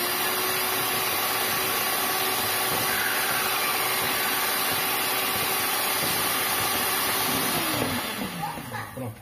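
Electric mixer beating eggs for a cod cake runs at a steady, loud whine for most of the stretch, then slows and winds down near the end.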